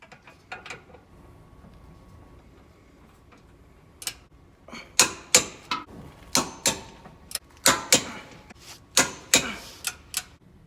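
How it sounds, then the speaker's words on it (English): A torque wrench ratchets down the bolts of a Mopar hitch on a Jeep JL, close and crisp, starting with a few scattered clicks and then settling into a steady run of sharp rhythmic ratchet clicks. "I'm going to come in with my torque wrench and torque each one of these down to 67 foot per pound."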